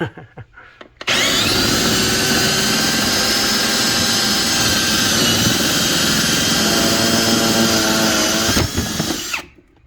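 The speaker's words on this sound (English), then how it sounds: "hole saw, so that we can bore through that and get a place for the power cord to come through" A power drill in low gear spins a hole saw through a panel to make a hole for a microwave power cord, a loud, steady whirring grind running for about eight seconds after a brief pause, then stopping.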